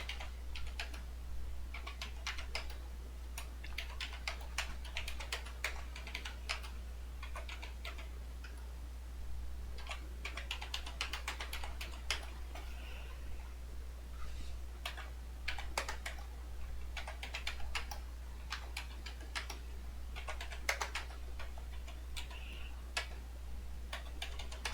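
Fast, light clicks from a computer keyboard as numbers are typed come in irregular runs with short pauses, quiet and close over a steady low hum.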